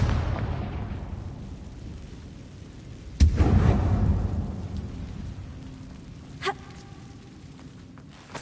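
A Confringo fire spell explodes in the Hogwarts Legacy video game: a sudden booming blast with a long rumbling tail, followed later by a smaller sharp burst, all over a steady rain-like ambient wash.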